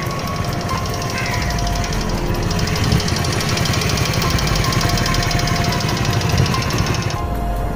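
A motorcycle engine runs steadily close by, a loud rough chugging hum with a rapid knocking pulse that continues throughout without pause.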